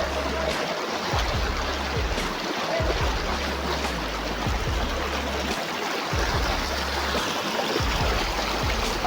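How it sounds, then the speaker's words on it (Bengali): A strong river current rushes continuously as a dense, steady broadband roar, close and loud, with low rumbling pulses underneath. "দেখো অনেকটাই স্রোত চলছে"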